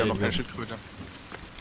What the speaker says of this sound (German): jetzt regnet kurz